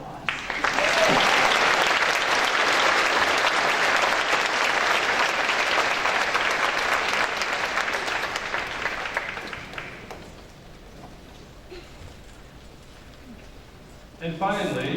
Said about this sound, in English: And we will now have a round of applause.